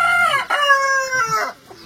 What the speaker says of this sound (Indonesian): kita sambil didesongin suara-suara ayam